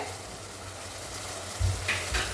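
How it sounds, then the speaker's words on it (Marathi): Water comes to a boil in a pot, a faint, steady bubbling hiss close by, with a couple of slightly louder bumps and clinks near the end and no voices. "आणि आता चांगली उकळी आलेली आहे आपल्या पाण्याला"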